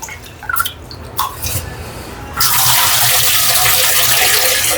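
Basmati rice is washed in water: a few drips and light splashes come first, then a loud, steady rush of running water takes over for the rest.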